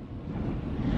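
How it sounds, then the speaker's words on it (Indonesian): Strong gusting wind buffets a parked car in the small coastal town of Karlobag, a steady, loud roar of low rumbling wind noise pressing against the body without let-up for the whole second. "Angin kencang sekali."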